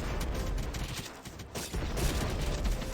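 A mage in the video game Epic War 2 fires ice projectiles in a dense, continuous barrage of rapid crackling, clattering bursts that stays loud and busy with only a brief dip partway through.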